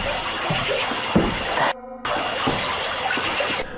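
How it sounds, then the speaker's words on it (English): Water splashing and churning under a bridge at night, a steady loud rush with a few sharper splashes and a brief dropout midway, close and continuous with no talking. "soon followed by a splash of water, like something jumping at them"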